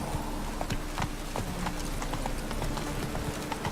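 A horse in The Witcher 3 trots with quick, steady clip-clop hoofbeats, close and even throughout over a low game ambience.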